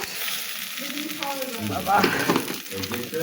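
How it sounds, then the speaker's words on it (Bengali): Cumin and bay leaves sizzle and crackle in hot oil in a pan with a fried boal fish head, a steady close frying sound with some stirring. "এখন একটু জিরে পোড়া দিয়ে দিলাম এবার তেজপাতা দিলাম"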